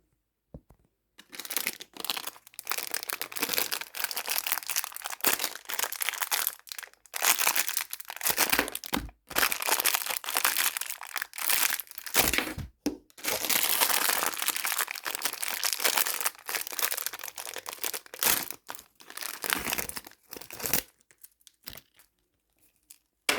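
Someone opens a plastic candy package, making loud, close, crinkly rustling that goes on in long bursts with short pauses between them, and no talking over it.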